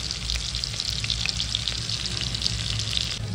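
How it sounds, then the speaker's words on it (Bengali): Pointed gourd (potol) pieces frying in hot oil with no salt or turmeric added, giving a steady, close, dense sizzle that crackles continuously throughout, with no voices. "প্রথমে এখানে পটলগুলোকে ভাজতে দিয়ে দিয়েছি।"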